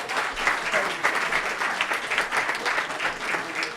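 A crowd applauds steadily, a dense wash of many hands clapping at even loudness throughout, with no voices standing out.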